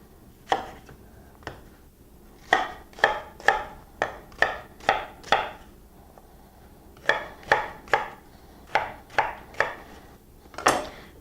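A knife coarsely chops a small onion on a board for lamb and pistachio kebabs, about twenty crisp, evenly spaced strokes falling in two runs separated by a short pause, loud and close with no talking.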